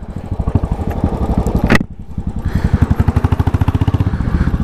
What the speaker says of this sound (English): Beautiful, very good sound from the exhaust.